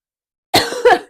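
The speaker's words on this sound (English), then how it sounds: "just as I cough, funnily enough" One sharp, close cough in two quick bursts, loud against a silent background.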